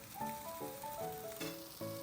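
Pizza topped with parsley sizzles faintly in a covered frying pan, a soft steady hiss under gentle melodic tones, with no talking.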